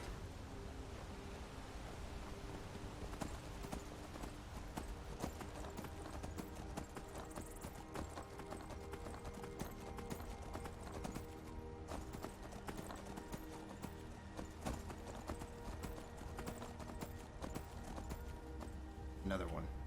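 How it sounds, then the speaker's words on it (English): Steady clip-clop of horse hooves riding through Skyrim, a continuous rhythmic trot beneath game music and ambience, with someone talking over it at times. "Back on the horse."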